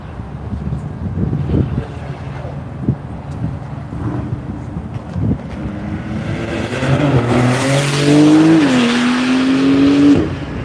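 Race car at NCM during a Tire Rack One Lap of America session, its exhaust played through a speaker to mimic a Mopar, rising from a distant rumble to a loud revving pass with a climbing engine tone.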